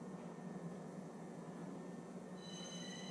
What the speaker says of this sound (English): So we're travelling on the train.